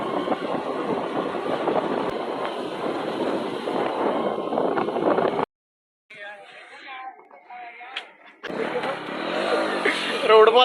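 A motorcycle engine roars steadily while riding, breaks off suddenly into near silence, returns as quieter rumbling, then swells loud again.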